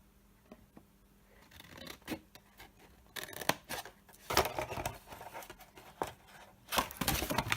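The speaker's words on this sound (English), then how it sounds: "And you want to cut these 3 away completely." Scissors snip through paper while a handmade gift box is being cut, giving a series of soft, close, uneven crisp cuts with small pauses between them, with no talking.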